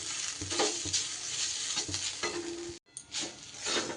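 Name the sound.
stirring bitter gourd mixture with chopped coriander in a pan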